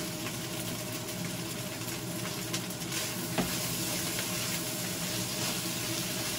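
Kimchi fried rice stir-fries with sesame oil and scallions in a hot pan, a loud, steady close-up sizzle with continuous stirring and tossing and a brief knock midway.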